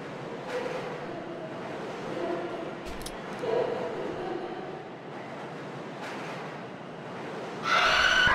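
A train rolls along in the horror video game Lost in Vivo, a steady low rumble with faint rail clatter and scattered clanks, ending in a louder mechanical burst.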